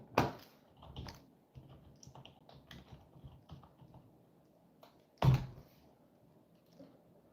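Someone types on a computer keyboard during a live stream. Scattered, irregular key clicks sound close by, with a couple of sharper, louder hits standing out. No one speaks.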